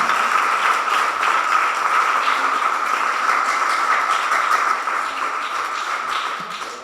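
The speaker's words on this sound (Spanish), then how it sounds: "demos las ofrendas de palmas a nuestro Dios." Congregation applause at a church service as an offering to God: loud, sustained, dense clapping from many hands that stays steady, then eases slightly and tapers toward the end, with no talking over it.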